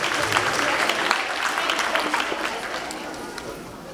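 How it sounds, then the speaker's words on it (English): An elementary school audience at a Maypole assembly claps for performing classes, dense crowd applause with scattered sharp claps that slowly tapers off. "let's give a big round of applause to our first three classes who will be performing today"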